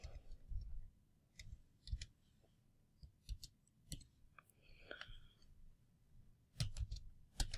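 Faint, irregular clicks and taps of keys being pressed, scattered in small clusters with quiet gaps, close by and soft.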